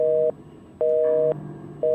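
Telephone busy tone sounding after a call is abruptly cut off during an earthquake: three loud, steady beeps in a regular on-off rhythm, alone with no voices.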